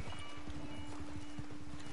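Horse hooves clip-clop at a steady walking rhythm in the Western game Red Dead Online during a trail ride, fairly faint under a constant low hum.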